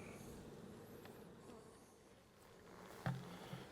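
Bees buzz faintly in a hive beneath a floor, a soft steady hum with a couple of brief louder knocks near the end.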